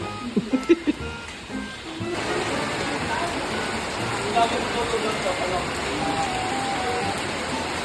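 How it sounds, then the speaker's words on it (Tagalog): Heavy rain pours steadily as a dense, broadband hiss filling the scene at close range, preceded by a few sharp knocks and a brief voice at the start before the downpour dominates. "Ang lakas ng ulan."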